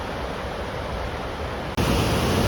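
Water rushes through a narrow cliff-walled gorge near a waterfall in Olympic National Park, a loud, steady, close roar of white noise that briefly dips and then grows louder.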